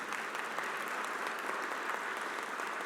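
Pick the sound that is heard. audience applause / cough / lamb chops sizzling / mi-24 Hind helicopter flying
audience applause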